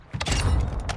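Weapon reload in Modern Warfare II, a quick burst of metallic clicks and clacks with a low thump, close and brief, about a second long.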